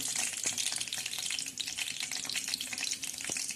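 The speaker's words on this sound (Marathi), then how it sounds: "कढाईमध्ये आपण जिरे आणि लसूण फोडणीला टाकणार आहोत." Cumin and garlic fry in hot oil in a kadhai with a steady, dense crackling sizzle, close and continuous with scattered pops and no talking.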